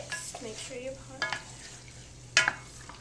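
Pasta sauce stirred into ground beef in a pot: soft, intermittent scraping and clinking stir strokes over a faint low simmer, with one sharper utensil knock late on.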